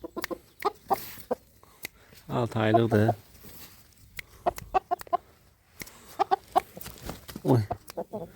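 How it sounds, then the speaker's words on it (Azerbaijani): A six-month-old rooster gives a few short clucks, close by and moderately loud, while someone speaks over quiet background handling noise. "Asadək xoruzumuz bax budur."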